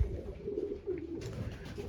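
Racing pigeons in a breeding loft give soft, low, continuous cooing with a steady murmuring rhythm, close by and moderately loud, against faint background rustling.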